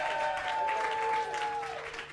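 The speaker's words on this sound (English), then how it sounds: "Let's have another round of applause for Jeffrey Day." Brief applause from a studio audience on a variety talk show, moderate and steady under a sustained tone, tapering slightly near the end, with no voices.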